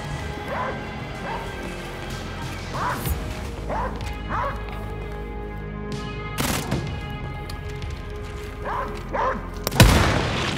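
A dog barks in the first-person shooter Wolfenstein: Youngblood, repeated barks spread over several seconds amid game combat, with crashes, impacts and a loud burst near the end.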